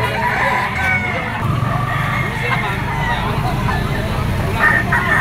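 A rooster, a black Paul Spark Grey gamecock, crows loudly nearby over a steady din of other fowl clucking and someone talking.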